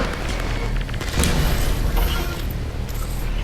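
A grenade explosion in the VR game Half-Life: Alyx, a heavy booming blast with a rumbling low-end roar that swells and lingers for a few seconds, loud and close.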